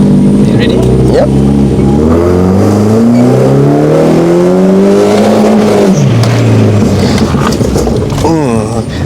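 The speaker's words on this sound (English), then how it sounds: "That's a first gear pull. Because of the weight of this car, it pulls hard." A tuned car pulls hard in first gear at a Kuala Lumpur car meet, its engine note climbing loud and close in one sustained rising sweep with a brief dip near the end, while people talk over it.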